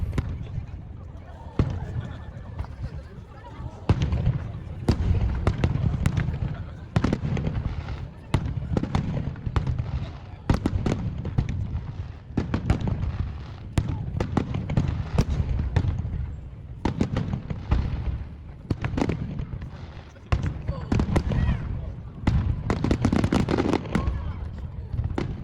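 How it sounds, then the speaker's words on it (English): A fireworks show in Japan with a dense, continuous stream of booms and crackling bursts, loud and sustained throughout. "some of us split off to go watch the fireworks"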